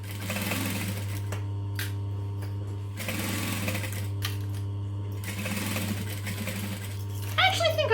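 Sewing machine stitching a drop-in bag lining for a modified Stella bag, running in a steady, close mechanical whir that pauses briefly twice, with a faint rustle of fabric near the end.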